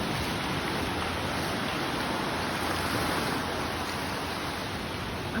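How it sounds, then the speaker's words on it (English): Ocean waves wash continuously onto a beach, a steady, dense roar of surf close by with no break and no voices. "Let y'all enjoy the sound of the waves."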